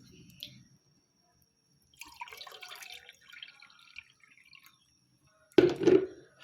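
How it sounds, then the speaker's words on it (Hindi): Water for tea is set on a stove in a home kitchen: faint drips and light clinks come first, then a short, louder splash and clatter near the end. "और चाय के लिए यहाँ पे मैं चढ़ा रही हूँ पानी।"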